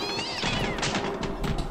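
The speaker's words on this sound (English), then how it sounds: "My cats are being so annoying, dude. They keep meowing." A house cat gives one short, close meow over a busy, noisy background.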